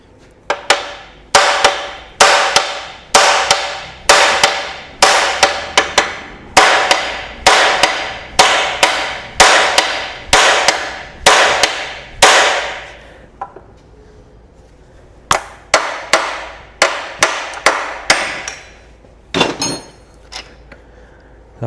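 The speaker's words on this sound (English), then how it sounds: "hammer." Metal hammering during a Mini 1275 GT restoration: about twenty sharp, ringing blows in a steady rhythm, a short pause, then a few more strikes, close and loud with no talk.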